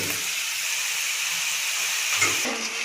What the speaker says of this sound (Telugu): వీటిని ఆయిల్లో వేసుకొని ఒకసారి కాల్చుకోవాలి